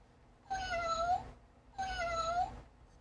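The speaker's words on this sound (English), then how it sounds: "I think my cat wants to come say hi." A pet cat meows twice near the listener in a quiet indoor room, each call long and drawn out with a clear falling pitch and a short pause between them.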